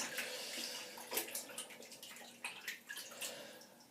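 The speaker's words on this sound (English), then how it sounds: "Now I'm going to be using cold water today" Cold tap water runs steadily into a sink while preparing to shave, a soft continuous hiss with small splashes and drips, faint and close.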